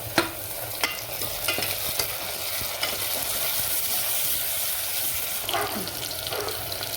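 Chopped tomato sizzles in a pan over fried onions, a steady close frying hiss with occasional scraping clicks of a spoon stirring.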